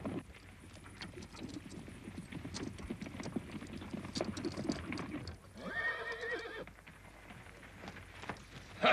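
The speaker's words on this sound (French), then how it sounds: "Ah, j'ai ramené les chevaux." Horses' hooves clip-clop steadily close by over an outdoor background, and midway a horse lets out a loud, wavering neigh lasting about a second.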